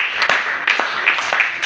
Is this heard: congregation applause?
yes